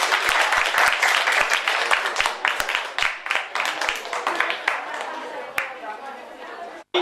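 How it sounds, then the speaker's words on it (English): An audience at a Rakhine community fundraising event applauds with dense, steady clapping, loud and sustained over crowd chatter and voices, then fades out near the end. "give a round of applause"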